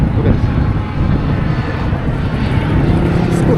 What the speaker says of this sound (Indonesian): Wow, ada pesawat.